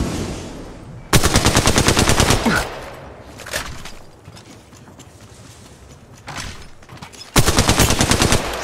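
Rapid automatic gunfire crackles in an Apex Legends Mobile match, two loud close sustained bursts separated by quieter single shots and mechanical clicks.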